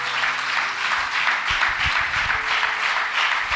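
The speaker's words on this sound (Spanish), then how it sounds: "Dele un gloria a Dios y un aplauso, por favor." Church congregation applauding during a sermon, a dense, steady roar of clapping heard up close and alone without speech.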